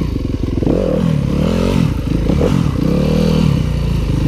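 A 2015 Yamaha WRF 250 enduro motorcycle ridden on trails, its engine a loud, close, steady drone that rises and falls in pitch with throttle changes, with faint clatter from the ride throughout.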